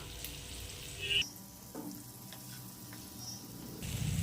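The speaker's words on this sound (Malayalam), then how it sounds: "ഒരു പാനിലേക്ക് ഒരു മൂന്നോ നാലോ ടേബിൾ സ്പൂൺ ബട്ടർ ഇട്ട് കൊടുക്കാം" Three or four tablespoons of butter melt in a pan before chicken is fried for restaurant-style butter chicken, giving a soft, faint sizzle and a few light clinks, quiet and close.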